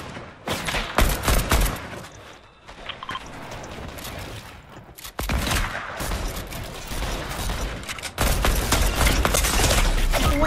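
Gunfire in the Fortnite Reload video game, with dense, continuous rapid shots and crackling bursts throughout, loud and busy, layered with other game effects.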